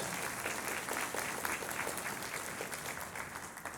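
Sustained audience applause at a municipal band concert, following cornet solos: dense, steady clapping from a crowd that holds at an even level throughout, with no speech over it.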